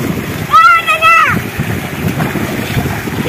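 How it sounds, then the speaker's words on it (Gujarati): A person drops into a farm water tank to bathe, a sharp splash followed by churning water and outdoor wind noise, with a voice calling out over it. "અને આ ભાઈ કુંડીમાં પડ્યા નાવા બીજી વાડીએ."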